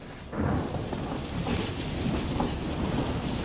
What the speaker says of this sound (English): To add to his worries, thunderstorms now lay ahead.